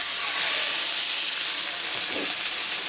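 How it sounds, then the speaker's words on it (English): Rabbit pieces searing in a hot frying pan, giving a steady, loud broadband hiss and sizzle that holds evenly from start to finish with no voices. "So I'll throw this stuff in a pan and sear it."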